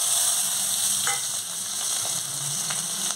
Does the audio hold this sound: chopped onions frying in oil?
yes